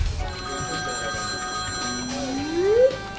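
A telephone rings in a Playmobil police station scene, a loud electronic ring with a tone that rises at the end, heard alone with no talking.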